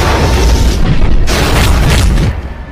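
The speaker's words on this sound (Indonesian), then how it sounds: "kereta tersebut terpental menabrak helikopter yang oleng" A train crashing into a helicopter in a film unleashes a loud, sustained explosive roar, with a booming burst midway before it tapers off.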